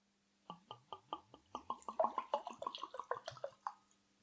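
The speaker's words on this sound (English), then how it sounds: "Let's pour the glass of wine." Moscato wine poured from a bottle into a glass, a quick run of rhythmic glugging gulps that speed up and blur into a splashing stream, close and fairly quiet.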